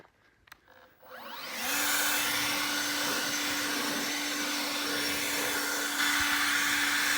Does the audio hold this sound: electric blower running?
yes